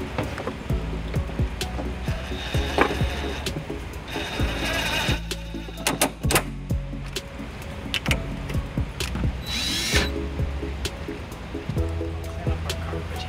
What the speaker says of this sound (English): Switch over to our 14 millimeter socket.